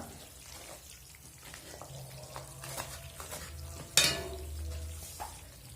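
A spoon stirs fried melon seeds and a flour mixture in a pan, with quiet scraping, light sizzling and occasional knocks, including one sharper clatter midway, all fairly soft.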